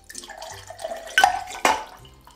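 Liquid splashes and trickles into a glass in a couple of short pours of a Bloody Mary-style vodka cocktail, close by and clear, with a faint clink.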